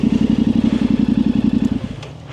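Yamaha Tenere 700 motorcycle on Michigan single-track trail, engine thrumming in a fast steady pulse, loud and close, then easing off as the throttle closes near the end.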